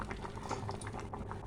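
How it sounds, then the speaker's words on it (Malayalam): Mustard seeds sizzling and popping in hot oil while tempering a pickle, a steady close frying crackle with scattered small pops throughout and no talk. "കടുക് വറുക്കാനുണ്ട്."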